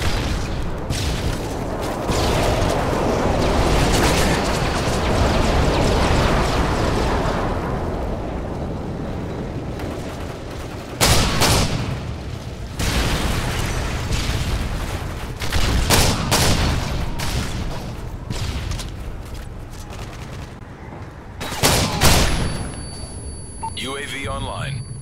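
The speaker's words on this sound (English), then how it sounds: "Nighthawk, you are cleared for bomb run on grid 2-9-1-1." Bomb-run explosions in Modern Warfare 3 gameplay, a dense roar of heavy blasts and rumbling booms that swells and cuts out in bursts, loud and close, with voices speaking over parts of it.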